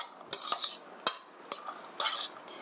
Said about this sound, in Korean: 골고루 섞어주세요.